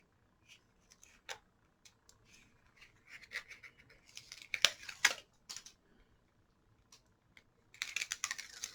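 Adhesive sheet peeled away from paper while making a Stampin' Up! greeting card in faux silk technique, giving soft crackly tearing bursts in short clusters, strongest in the middle and again at the end, close and fairly quiet.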